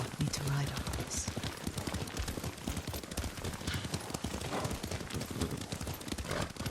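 Horse hooves clip-clop at a steady gallop in the video game Ghost of Tsushima, a rapid, rhythmic pounding that stays close throughout while people talk over it.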